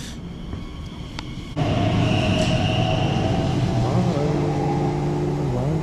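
An Elizabeth line train rumbles and hums steadily at Abbey Wood station, growing louder after a sudden onset, with rising and falling motor whine as it pulls away.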